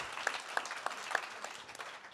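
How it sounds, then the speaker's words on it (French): Audience applause at a francophone health podcast awards ceremony, a steady patter of many hands clapping at moderate loudness through the whole stretch, with a louder thump right at the end. "On peut les applaudir effectivement."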